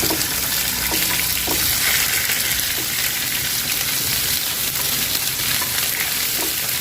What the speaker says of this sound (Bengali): আদা রসুন বাটা দিয়ে একটুখানি নেড়ে নিচ্ছি